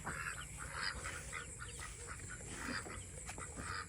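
Peking ducks on a small farm, a flock quacking and honking repeatedly at mid distance over a faint steady background hum.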